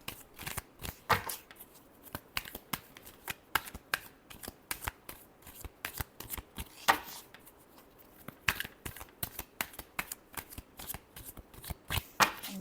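Tarot cards are shuffled by hand, a quiet close series of crisp riffling bursts and soft slaps coming in irregular clusters, with no voices.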